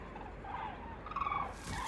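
Migrating cranes calling on the open Hungarian pusta, a few faint honking calls drifting over a low rumbling background.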